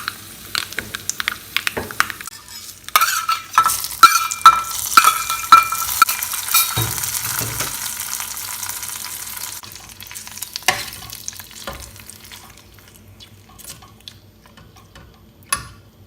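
Mustard seeds, dried red chillies and curry leaves sizzle in hot oil for a Kerala pumpkin pachadi, with loud spluttering and popping bursts that give way to a quieter hiss and occasional stirring clicks.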